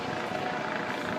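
A Eurocopter EC145 helicopter flies overhead with a steady, broadband rotor and engine roar at moderate distance. It sounds continuous through the whole short stretch.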